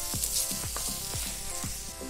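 Carrots sizzle and fry in a pan as the first vegetable for chicken yakisoba, a loud, steady crackle with repeated scraping stirs every half second or so and no voices.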